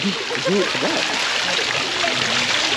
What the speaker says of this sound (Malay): Air bukit air terjun daripada atas.